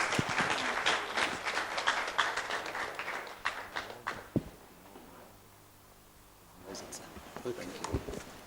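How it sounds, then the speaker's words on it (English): Conference audience applauding a guest speaker: dense, lively clapping for about four seconds thins out into near quiet, then scattered claps return. "Can we make that applause a lot louder for him?"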